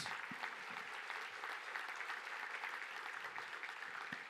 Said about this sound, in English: give another round of applause for our 2017 Broyles Award finalists.